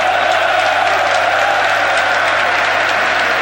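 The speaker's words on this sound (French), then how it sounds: "Et les applaudissements à l'adresse de M. Haaland, juge de ligne officiant devant la tribune principale à Bruges" A packed football stadium crowd in Bruges applauds a linesman officiating in front of the main stand during a 1996-97 FC Bruges versus Steaua Bucuresti match, a loud, continuous wash of clapping and cheering that fills the whole stretch.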